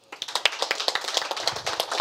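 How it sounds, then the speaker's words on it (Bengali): An audience claps to welcome a guest at a televised event, a brisk run of sharp, fairly close handclaps lasting about two seconds with no talking. "অনেক ধন্যবাদ, অনেক শুভেচ্ছা এবং আরেকটা করতালি।"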